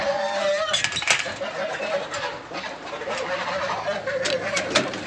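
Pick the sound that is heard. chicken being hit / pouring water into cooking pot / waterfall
chicken being hit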